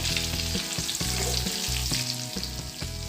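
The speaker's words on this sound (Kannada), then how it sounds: "ಈಗ ಈಗ ಕರೆದಿದ್ದು ಮಿರ್ಚಿ ಏನು ಕಟ್ ಮಾಡ್ಕೊಂಡಿದ್ದೀನಲ್ಲ ಅದನ್ನು ಹಾಕಿ ಇನ್ನೊಂದು ಟ್ರಿಪ್ಪು ನಾವು ಅದು ಕಲ್ಕೋಬೇಕಾಗುತ್ತೆ" Cut chilli fritters (cut mirchi) frying in hot oil, a steady dense sizzle and crackle that runs unbroken throughout, close and loud with no voices over it.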